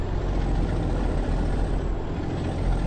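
Scania P-360 truck hauling a box trailer in Euro Truck Simulator 2, a steady loud engine drone with hissing rumble throughout, no voices.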